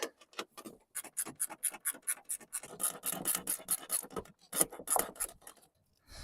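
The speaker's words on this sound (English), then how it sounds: "So I need to just reach under with this ratchet spanner" A ratchet spanner working bolts loose under a soundbar, rapid clicking ratchet strokes in quick repeated bursts, close and fairly loud, with rough scraping between the clicks and a short pause near the end.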